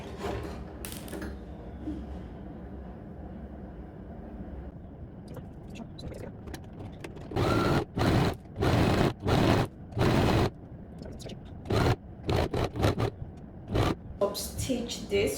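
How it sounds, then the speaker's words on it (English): A sewing machine stitches two sides of dress fabric together in a series of quick, close bursts of rapid mechanical chatter, starting and stopping, with a quieter stretch of room noise before. "So I'm going to go ahead and sew these two sides together."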